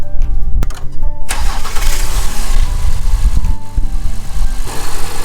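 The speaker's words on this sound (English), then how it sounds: "I'm going to start the car and show you the normal vibration" A 2017–2020 Acura MDX, which has a fuel-related vibration fault, cranks briefly and fires up, then settles into a close, loud rough idle with no talk.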